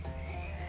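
A short, faint frog croak from the adventure game Shadows Over Loathing, a low throaty rasp heard alone for under a second.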